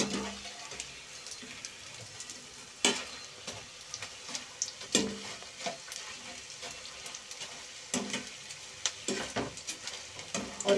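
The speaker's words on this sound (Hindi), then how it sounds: "घी हमारा गर्म हो चुका है अब मैं इसमें ये गोंद डाल दूंगी" Edible gum (gond) fries in hot ghee with a steady soft sizzle, broken by occasional sharp stirring clinks and scrapes of a utensil in the pan.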